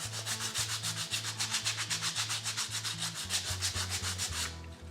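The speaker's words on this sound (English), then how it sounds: "I'm just going to scuff those up a little bit with my sandpaper." Sandpaper scuffs painted wood on a model house project in steady back-and-forth strokes, a close, even rasping rhythm of about twenty passes that runs alone without talk before stopping abruptly near the end.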